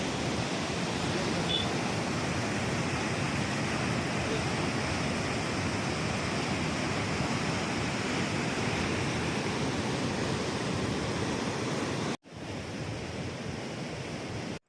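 Water rushes through three opened sluice gates of the Poondi dam in early morning, a dense, continuous broadband roar with no letup, briefly cut near the end before resuming.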